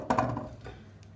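A few sharp knife chops cut potatoes on a cutting board, close by and quick, with a short pause before a final tap.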